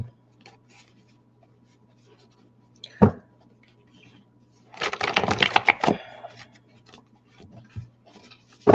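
Quiet room with a low hum, a single sharp tap, then a burst of rapid riffling tarot card shuffles lasting about a second, followed by faint taps.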